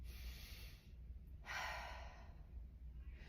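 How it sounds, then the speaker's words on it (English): Deep belly breathing during a core and pelvic floor exercise, heard as soft, close breath sounds with one fuller inhale or exhale in the middle, quiet and alone. "Take a few breaths and practice that."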